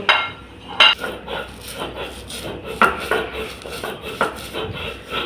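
Fried shrimp with salt is ground by hand on a stone shil-pata slab, making rough, repeated scraping and rubbing strokes with a few sharper knocks of stone on stone, close and fairly loud.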